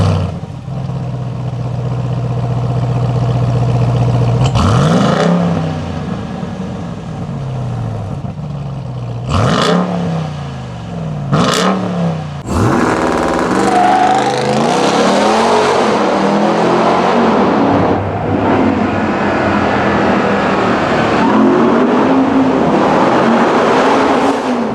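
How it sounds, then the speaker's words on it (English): A 2021 Ram 1500 TRX engine idles through its dual 5-inch exhaust outlets, then roars through several loud, sharp revs before settling into sustained throttle blips and a deep, rumbling drone, with no talking. "We do have dual 5-inch exhaust outlets, so speaking of, let's go ahead and take a listen to those."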